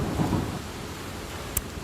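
A thunderstorm with rain: low rolling thunder rumbles under a steady hiss of falling rain, with a sharp crack near the end.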